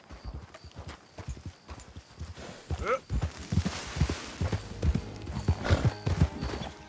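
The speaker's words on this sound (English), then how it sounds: "My horse ran away!" A runaway horse in Red Dead Redemption 2 clip-clops away at a gallop, hoofbeats swelling from quiet to loud and close, with a brief whinny near the middle and a voice calling out over the commotion.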